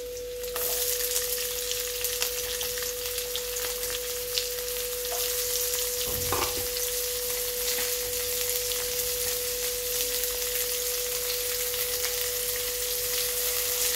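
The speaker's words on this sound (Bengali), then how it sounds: "পেঁয়াজটাকে আমি একটু ভাজা করে নিচ্ছি।" Chopped onion frying in a pan alongside potato, a steady broadband sizzle that holds evenly throughout, with a brief clatter partway through.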